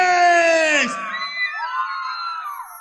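A crowd of women at a Virgen de Candelaria festival concert in Porco lets out a loud, high-pitched collective shout that peaks quickly and then trails off into scattered whoops and cries.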